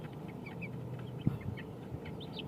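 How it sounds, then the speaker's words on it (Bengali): Roosters and hens clucking close by in a quiet outdoor spot, with soft, scattered clucks and a few short high calls over low background hum. "তিনটা কক দুইটা মুরগি"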